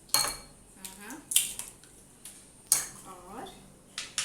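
Pre-made ice cubes dropped into a glass for a homemade sparkling mocktail give a few bright, close clinks and clatters spread across several seconds, with quiet pauses between them.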